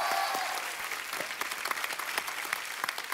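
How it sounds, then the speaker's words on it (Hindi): Studio audience on a comedy show clapping in a sustained, dense wash of applause that stays steady and moderately loud throughout, with no talk over it. "सचिन जिगर के लिए एक बार जोरदार तालियां।"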